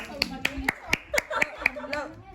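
A pair of hands claps about nine times in a quick, fairly even rhythm, each clap sharp and close, with faint voices or tones in the background.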